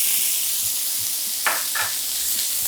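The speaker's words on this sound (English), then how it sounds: "I'm gonna add in my onions." Onions hit hot avocado oil in a pan, giving a steady bright sizzle throughout, with a couple of short scraping stirs in the middle and faint low clunks of the pan.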